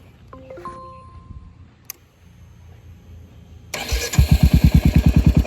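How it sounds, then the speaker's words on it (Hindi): A modified Royal Enfield Hunter 350 motorcycle has its engine started after a few seconds of quiet small clicks. It catches abruptly and settles into a loud, close, rhythmic thumping idle. "तो सबसे पहले करूँगा गाड़ी को चालू।"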